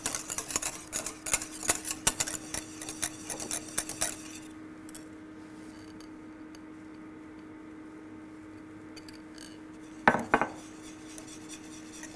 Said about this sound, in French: Et je viens mélanger l'ensemble. Donc là, on n'hésite pas à fouetter,